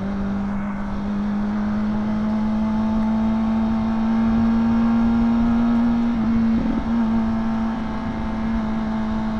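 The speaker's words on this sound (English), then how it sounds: "Cause I'm about to yank this throttle back." Motorcycle engine revving as the throttle is opened, a loud steady hum that rises slightly in pitch while riding, with wind noise.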